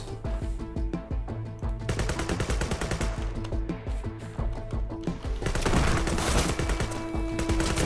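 Pump shotgun fire in a video game comes as repeated loud blasts, with bursts of sharp shots and dense rapid firing that swells toward the end, all without talk.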